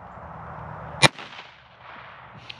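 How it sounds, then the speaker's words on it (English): A single sharp gunshot from a handgun at a shooting practice, loud and close, followed by a brief fading echo and quiet afterward. "Just keep squeezing the trigger slowly till it goes off."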